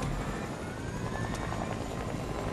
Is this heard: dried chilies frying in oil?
no